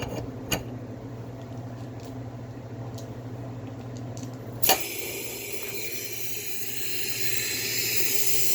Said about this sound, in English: I'm going to plug this back in, and it's going to get loud with the compressor